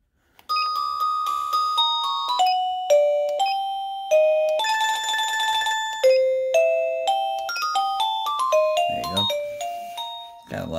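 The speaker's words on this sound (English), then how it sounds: "this is to change the ring doorbell, the" A bright electronic doorbell chime from a solar driveway alarm receiver plays a long melodic tune, note after note ringing clearly and loudly, with no voices.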